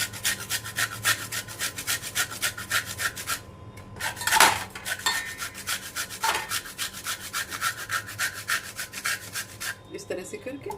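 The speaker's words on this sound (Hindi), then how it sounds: "इस तरह से हमने नारियल को ग्रेट कर लिया है" Dried coconut (khopra) rubbed over a kitchen grater, a steady rhythmic rasping scrape repeating rapidly and close, with a brief pause partway through and a clatter near the end.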